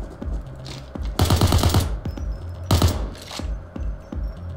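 Light machine gun fire in the video game PayDay 2: two loud, sustained rapid-fire bursts, with scattered single shots and clicks between them.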